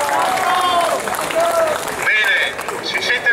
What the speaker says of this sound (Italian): vi domando un grande applauso